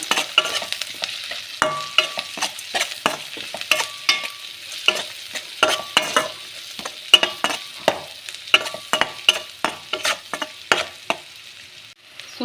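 Spiced radish stir-fry seasoned with turmeric being stirred in a frying pan, with steady gentle sizzling and quick repeated scraping strokes of a spoon, close and clear, no voices.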